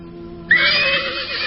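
A horse neighs loudly beside a horse cart in a radio drama scene, one sharp, rising whinny that starts abruptly and then trails into a long, wavering call over faint background noise.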